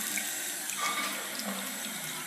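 Water runs steadily from a tap into a balloon being filled as a water bomb, a continuous close hiss and gurgle with no talking.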